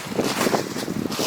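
Gusts of wind buffet the microphone in short, rough bursts, loud and close, with no voices.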